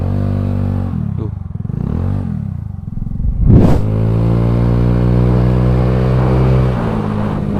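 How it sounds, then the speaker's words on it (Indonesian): A carbureted Honda Beat scooter fitted with an upgraded Daytona CVT revs close by, a steady engine drone broken by a sharp rising throttle blip mid-clip before settling back into a sustained loud hum. "Ini kalau misalkan kita gas awal-awal tuh agak gerung."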